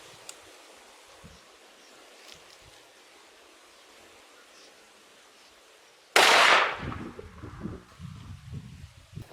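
A deer rifle fires a single loud, sharp shot at a bench rest during scope zeroing, breaking a quiet outdoor background and followed by a decaying echo.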